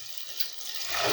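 Boiling water pours from a cup into a pan of curry base, giving a steady hissing, splashing wash that swells louder toward the end, close by with no talk.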